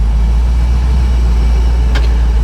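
Loud, steady low engine rumble from a 1971 Plymouth Barracuda with a fuel-injected 440 V8, heard close up with a brief sharp click near the end.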